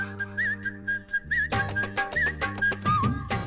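Someone whistles a bright, wavering melody in a film song, playing over bass and a rhythmic backing, with the tune rising and bending across a few short phrases.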